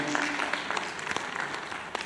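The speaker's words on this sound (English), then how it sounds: "Give a big round of applause for Dr. Ramakrishnan." Steady applause from an audience, many hands clapping continuously with a few sharper claps standing out.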